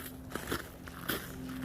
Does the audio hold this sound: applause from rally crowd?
no